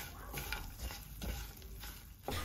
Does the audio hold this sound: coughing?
no